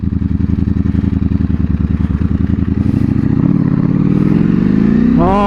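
A V4SP superbike engine thrums in a fast, steady pulse that swells as the motorcycle nears, then rises in pitch as it revs and passes close by, loud and without speech.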